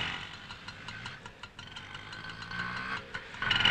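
A nearby auto-rickshaw engine idles, rattling and puttering in quick, regular pulses for a few seconds.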